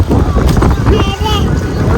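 Strong wind roars steadily across the microphone outdoors in Delhi, a loud, continuous buffeting rumble with faint voices talking underneath.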